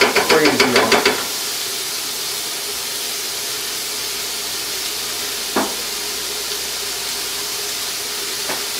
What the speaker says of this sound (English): I'll try and get a sear going on this meat